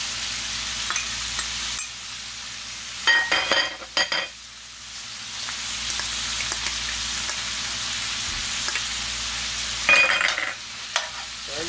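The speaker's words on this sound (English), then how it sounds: "we're going to add the onions and the garlic." Onions and garlic stir-frying in a pot for Cajun pork and sausage jambalaya, a steady close sizzle with a few sharp spoon scrapes and clatters against the pot, and no talking.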